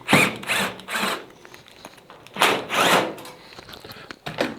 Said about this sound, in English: There are 2 screws that need to be undone.